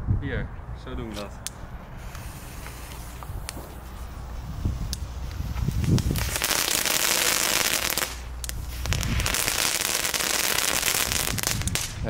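Homemade category 1 firecrackers set off outdoors give dense, loud bursts of crackling in two long stretches, with people talking nearby between and over the pops.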